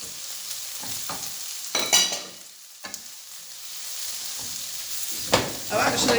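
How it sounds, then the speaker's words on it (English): Shallots and garlic dropped into a hot pan for a sausage, bean and lentil stew, with bursts of loud sizzling as they land, fading to a softer steady fry between. "I'm going to chuck in the shallots and garlic now, get them in."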